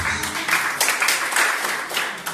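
Congregation clapping during a church family blessing service in Jakarta, a short burst of many hands with a few sharper claps standing out, loud and close.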